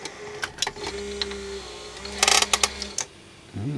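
Tape machine running with a broken tape, giving a mechanical whir with steady hum tones that stop and start, broken by sharp clicks and rattles, close and moderately loud with no talking.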